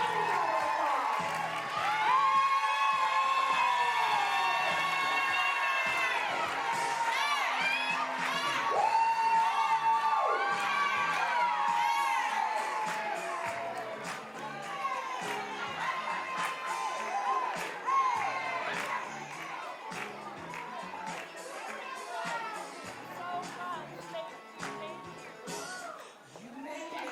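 A reception crowd cheers, whoops and shouts for Ruth Rollins taking the stage, a dense, loud roar of voices that stays strong throughout and thins a little toward the end.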